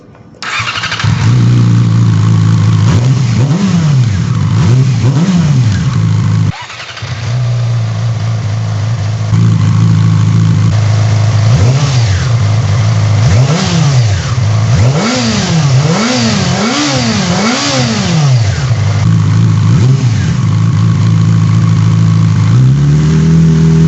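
A 2008 Yamaha YZF R6 sport bike fitted with an M4 Street Slayer exhaust starts and idles loudly, then is blipped through a series of sharp rising and falling revs close by, with no talking.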